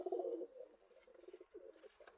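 Pet pigeons in a home loft coo softly at close range in a few low, repeated murmuring phrases. A louder burst comes first, then quieter, broken coos follow.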